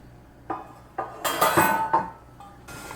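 A lid clatters onto a pot of cactus and chicken, a series of sharp metallic clinks and knocks, some ringing briefly, close and fairly loud against a quiet background.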